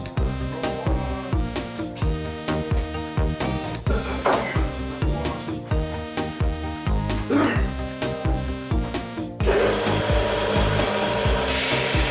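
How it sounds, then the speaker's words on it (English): A sander touches up a hybrid shaving brush handle blank, its steady broadband grinding rising in the final few seconds over continuous background music with a rhythmic beat. "go over to the sander, quick touch"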